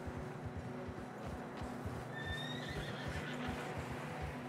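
A horse in Red Dead Redemption 2 lets out one clear whinny midway, carried over a steady clip-clop of hooves and a wintry wind bed, with no talking.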